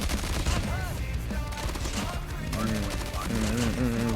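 Rapid gunfire bursts in the mobile shooter game Call of Duty Mobile rattle over game music and effects, with a voice talking throughout.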